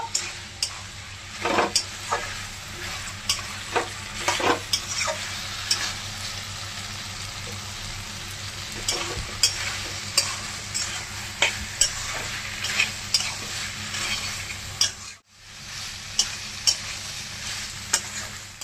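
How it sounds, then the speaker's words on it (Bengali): Soybean chunks sauté in a pan for a vegetarian curry, with steady sizzling and repeated sharp clinks and scrapes of a spatula stirring against the metal, close and clear with no talking. "সয়াবিনটা দিয়ে দিচ্ছি। এখন একটু কষিয়ে নেব।"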